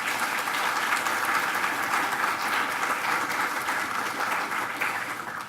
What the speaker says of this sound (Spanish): pedirles a ustedes también que le otorguemos un aplauso